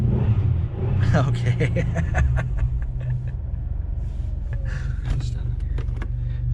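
A Chevrolet Camaro engine idles with a deep, steady rumble just after a cold start, heavy low-end throb running throughout while people talk and small clicks and cabin noises come and go.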